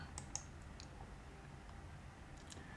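A few quiet computer mouse clicks while working in Photoshop, with two or three sharp ticks near the start and one more later, over a faint room hiss.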